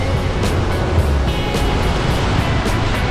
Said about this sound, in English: You could absolutely feel the rush of the tide as it was leaving Talbot Bay.